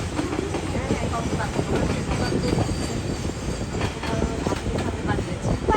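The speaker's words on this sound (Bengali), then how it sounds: "আপনারা এতক্ষণ ট্রেন যাওয়ার সুন্দর মুহূর্তটা উপভোগ করেছেন" A train rolls steadily past at close range, its wheels clattering loud and continuous over the rails for several seconds, with no talk over it.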